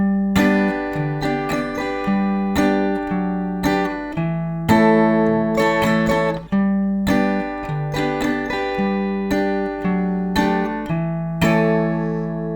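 Acoustic guitar plays the bass line of a song's chorus slowly, with clear plucked single notes and strummed chords in a steady, unhurried rhythm, heard close and alone.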